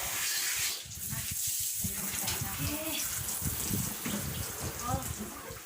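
Water splashes and runs steadily from a hose while a car is washed outdoors, a continuous broadband hiss with scattered spatters and voices talking over it.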